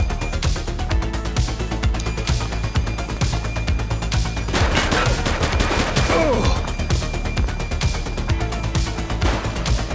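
Dense gunfire fills a police shootout in The Precinct, with rapid, loud shots cracking in quick bursts throughout and a heavier clattering flurry around the middle, nearly continuous with no pauses.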